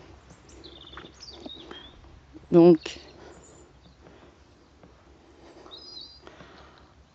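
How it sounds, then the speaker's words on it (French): Birds sing in a French garden with small scattered chirps and tweets, faint and intermittent, with a brief burst of speech and a louder sound around the middle. "On entend les oiseaux."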